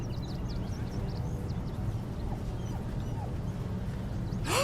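Scratch the dog from Baldur's Gate 3 whimpers in short, high, quiet yelps and whines over a low ambient game hum, with a louder burst at the very end.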